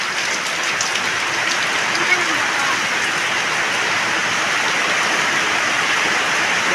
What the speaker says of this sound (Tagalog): Ang lakas po ng naiulan.